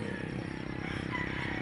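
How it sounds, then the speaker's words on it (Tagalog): A motorized tricycle passes along a road by a rural fishpond, its engine a steady low, rough rumble at moderate distance for the whole moment, with no talking. "tunog ng tricycle na dumadaan."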